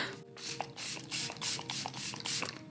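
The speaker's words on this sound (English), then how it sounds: "I'm spraying my face with a stay spray." Repeated short hissing sprays from a makeup setting-spray pump bottle misted onto a face, about six quick bursts in a steady rhythm, close and fairly soft.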